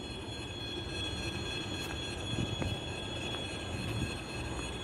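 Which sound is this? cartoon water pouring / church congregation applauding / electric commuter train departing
electric commuter train departing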